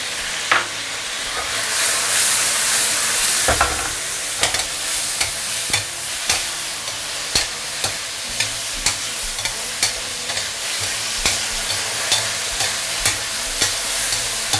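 A dish stir-fried over high heat to cook down its sauce: a steady sizzling hiss with regular, evenly spaced scrapes and clacks of a spatula against the wok, close and loud throughout.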